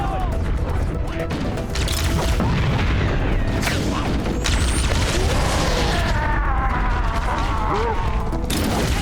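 A grenade blast in Halo: Combat Evolved sounds amid game combat, with heavy booms, crashes and mechanical clatter filling the whole stretch, loud and dense, with shouted voices mixed in.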